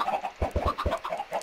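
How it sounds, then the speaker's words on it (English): Chickens clucking in the video game Minecraft, several short, low, punchy clucks in a quick irregular cluster near the middle, with softer chatter around them, heard alone without speech. "Ah, hey, there's another chicken."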